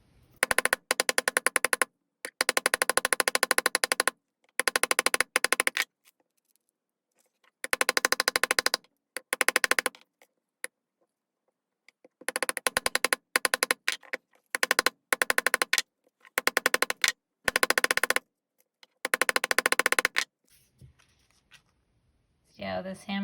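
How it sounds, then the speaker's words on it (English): Wire pieces for a split ring bracelet hammered flat in bursts of rapid, sharp metallic taps, about ten clusters separated by short pauses, close and fairly loud. "you can straighten them out by hammering the sides like I just did."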